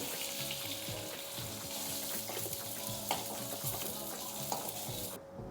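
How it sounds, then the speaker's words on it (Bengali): Fish fries in hot oil in a kadai while the pieces are lifted out: a steady, bright sizzle with faint stirring and scraping underneath, cutting off abruptly at the very end. "মাছগুলো সুন্দর ভেজে নিয়েছি, এখন আমি তুলে নিচ্ছি।"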